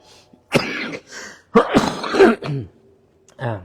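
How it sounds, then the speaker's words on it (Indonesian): A man with a cough hacks and clears his throat several times during a dawn religious lecture, loud and close, in rough bursts separated by short pauses. "Agak batuk-batuk, mohon maaf ya."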